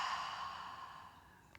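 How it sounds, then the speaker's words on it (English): A single big exhale through the mouth during a yoga session, a long breathy sigh that starts strong and slowly fades, close and alone in a quiet room. "big exhale through the mouth"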